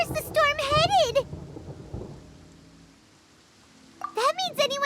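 Thunderstorm in the game Genshin Impact: a low rumble and rain-like wash sit beneath character voices, with the storm briefly heard alone before speech resumes.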